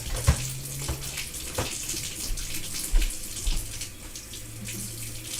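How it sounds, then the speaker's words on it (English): Water runs steadily from a tap into a pet's water bowl in a kitchen, a continuous close splashing stream with a few louder splashes and knocks. "Alright, water time for Mooch."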